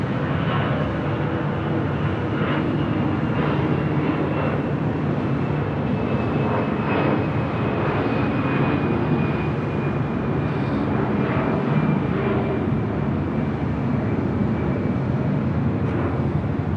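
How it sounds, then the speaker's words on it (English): A Boeing 787-10 Dreamliner airliner approaches to land at LAX, its engines a loud, steady broadband roar with a faint high whine drifting across, continuous for the whole stretch with no voices. "This is the brand new 787-10 Dreamliner up next for arrival at 7 right."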